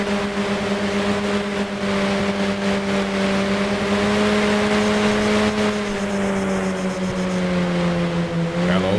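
Car in Arma 3 driving at speed with a steady, loud engine drone that barely changes, then shifts in pitch near the end as it slides and drifts.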